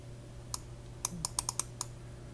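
Fingers type on a computer keyboard while searching in 1994 Bible software on Windows 3.11, producing about seven quiet, crisp key clicks in an uneven burst.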